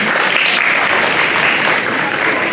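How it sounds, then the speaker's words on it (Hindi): A group claps loudly and steadily for a correct answer at a children's classroom activity, dense continuous applause with some voices mixed in. "तो ताली तो बनती है ना?"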